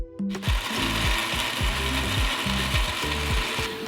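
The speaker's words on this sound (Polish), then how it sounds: "Wrzucamy wszystko do blendera." A blender chops peeled melon pulp in short, regular pulsing bursts that whir and grind repeatedly at close range, with no voices.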